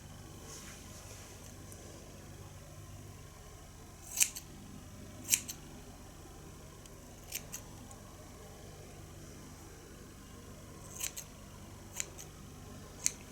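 Several crisp, isolated snips of scissors trimming the ends of hair, close and fairly quiet, spaced irregularly over a low steady background hum with no talking.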